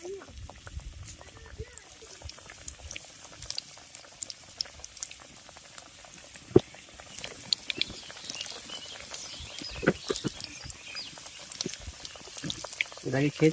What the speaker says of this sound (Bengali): কড়াইতে তেল গরম করে নিয়েছি এবার গরম তেলের মধ্যে এক একটা পকোড়া দিয়ে দিচ্ছি